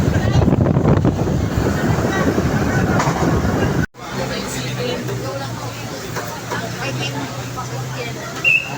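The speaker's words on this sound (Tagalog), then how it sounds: "Parang bagyo ang hangin dito." Strong gusting wind buffets the microphone with a heavy roar, briefly cutting out, then continuing as a lower steady rush.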